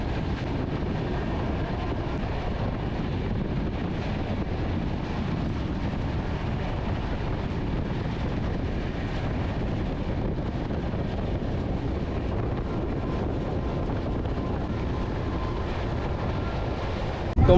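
Howrah–Puri Shatabdi Express running past a railway station, heard from on board as a steady, loud rumble with broadband wind-like roar throughout, no distinct horn or clatter standing out.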